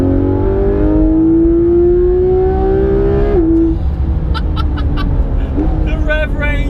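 Porsche 991 GT3 RS engine revving while driving, climbing steadily in pitch to a high-revving wail, then cutting off sharply at a gear change, loud from inside the cabin with someone talking afterward.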